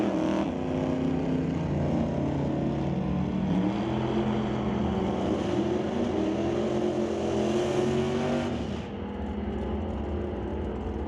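A 1967 Chevy Camaro and a Malibu drag race side by side, loud sustained engine roar with rising tones as they accelerate down the strip, fading off near the end.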